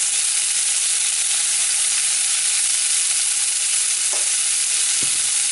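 Pork chops seasoned with salt, pepper and garlic powder fry in a pan with a steady, close hiss and sizzle that holds throughout, with a faint clink of utensils near the end.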